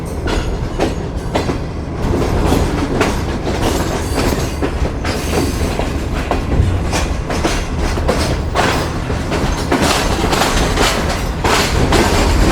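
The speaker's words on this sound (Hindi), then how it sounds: "बस मालगाड़ी ही है।" A freight train rolls through Rohri Junction with steady rumbling, clickety-clack wheel rhythm and occasional squeal, loud and close for the whole stretch, with no voices.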